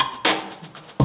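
Retro 8-bit drum samples from the game Unrailed: two sharp, bright electronic hits a little under a second apart, with a thin buzzy decay after the first, loud and alone.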